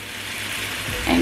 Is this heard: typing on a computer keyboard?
no